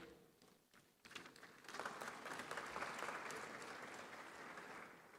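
Applause from a conference audience as panel speakers, among them an African Union commissioner, are welcomed on stage, starting quietly then swelling into steady, dense clapping that holds to the end.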